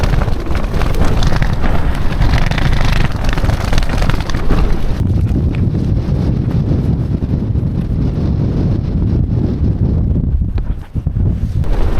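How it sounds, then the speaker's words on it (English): Strong wind buffets a tent at a campsite, gusts of 30 miles an hour roaring and rumbling loudly against the fabric and microphone, with continuous low-pitched blustering and brief lulls. "Windy, said 14 to 17 mile an hour with 30 mile an hour gusts."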